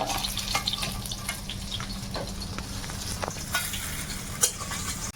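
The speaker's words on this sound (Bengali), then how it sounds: "মাছটা ভাজা হয়ে গেছে এখন উঠিয়ে নেব" Fish frying in a pan, a river-fish curry being cooked outdoors in the Sundarban; steady close sizzle with occasional stirring clicks and scrapes, no talking.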